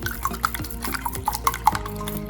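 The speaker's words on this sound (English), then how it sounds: "After adding all the masalas, I'll whisk it properly." Egg mixture seasoned with black pepper and Maggi masala being whisked in a bowl, a steady run of quick light taps and clinks, moderately close, with no voices.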